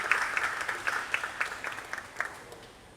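A small seminar audience applauds a traditional Caribbean Colombian music performer. The clapping is scattered and moderately close, with distinct individual claps that thin out and fade over about three seconds.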